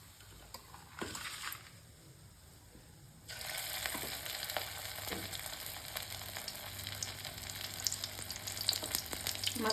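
Soya chunks frying in hot oil make a steady crackling sizzle that starts quietly, then jumps louder a few seconds in and keeps popping close up, with occasional stirring noises.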